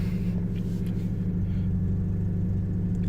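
Pontiac Fiero engine running on the road, a steady low rumbling drone with a slight uneven edge, heard close and continuous from inside the car with no talking.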